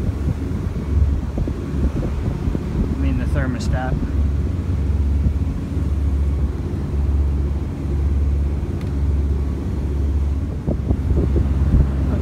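Twin 135 hp Hino marine diesel engines running steadily at 2100 RPM aboard a boat, a constant low droning rumble with wind buffeting throughout while someone talks over it.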